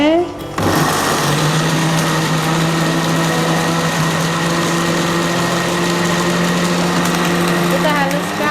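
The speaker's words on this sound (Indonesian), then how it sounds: "Kita haluskan sampai benar-benar halus." Blender grinding peanut sauce for batagor with tamarind water, a loud steady motor whine that starts abruptly after a brief pause and runs continuously to the end.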